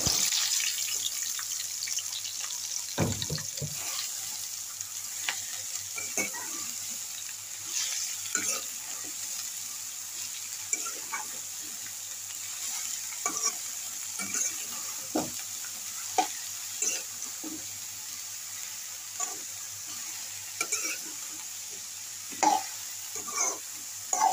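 Taro stolons (lata) are stirred in oil in a pan with a soft, steady sizzle, broken by scattered scraping stir strokes and one sharper knock. The sound stays fairly faint and close, with no talk.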